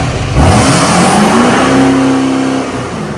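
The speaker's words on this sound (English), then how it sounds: "The turbo sounds pretty good." A turbocharged engine revs hard and close, its roar climbing in pitch and holding steady for about three seconds before easing off at the end, loud and alone.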